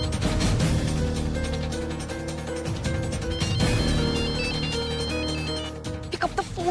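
A telephone rings repeatedly in a busy indoor scene, its bell tones layered over music and background clatter, fairly loud and continuous.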